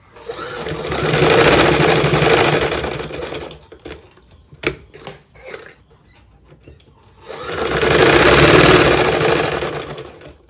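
Sewing machine stitching a shirt's shoulder seam, running in two long steady bursts with a short break of scattered clicks and handling noises between them, close and loud.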